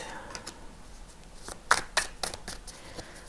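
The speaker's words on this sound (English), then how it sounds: "Let's get 2 tarot cards." Tarot cards being shuffled by hand, a run of soft crisp riffling flutters and taps close by, a few sharper card snaps near the middle, fairly quiet with no talk.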